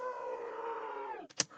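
A goat bleat sample in texture warp mode, transposed down an octave, heard as a long droning, smeared tone that ends in a couple of sharp clicks.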